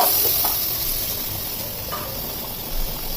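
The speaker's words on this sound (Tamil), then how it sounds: "நல்லா ஃப்ரை பண்ணி" Tomatoes fry in a pan for a curry, giving a steady close hiss and sizzle with a few faint stirring touches.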